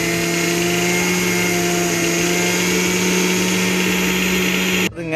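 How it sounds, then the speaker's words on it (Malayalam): An electric mixer grinder whirs loudly and steadily while grinding ajwain and cumin seeds, a constant motor drone that cuts off abruptly near the end. "അപ്പോൾ അതിന് കുറച്ചെടുത്തിട്ട് ഇങ്ങനെ മിക്സിയിൽ അടിക്കുകയാണ്"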